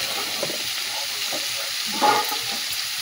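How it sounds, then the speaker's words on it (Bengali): Potato and kohlrabi pieces fry in a wok, a close steady sizzle with soft intermittent stirring and a brief louder burst near the end. "কেটে আলু ওলকপি আর দিয়ে দিলাম। সবজিটা এদিকে ভাজা হোক ততক্ষণ।"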